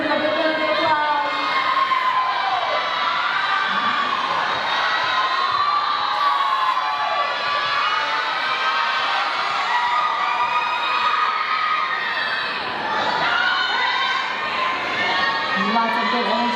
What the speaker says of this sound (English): Advanced, give them a big round of applause.